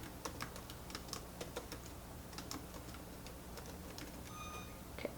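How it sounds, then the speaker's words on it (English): Light typing on a computer keyboard while entering text in label-printing software, quick irregular key clicks at a soft, close level with no talking. "we can keep typing"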